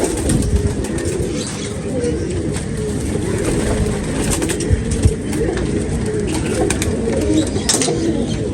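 Many pigeons coo continuously at close range, a dense murmuring chorus with occasional wing flutters and faint background noise.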